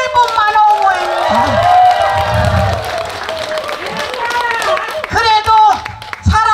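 Large outdoor crowd at a Buddhist temple's Buddhist painting consecration ceremony and entertainment show in Buan clapping and cheering, a broad wash of applause and shouts under a loud amplified voice speaking over it throughout.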